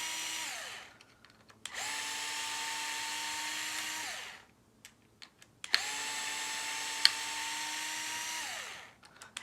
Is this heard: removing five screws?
yes